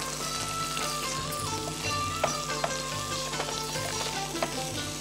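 Onion pieces fry in hot oil with a steady, dense sizzle close by, broken by a few soft stirring clicks.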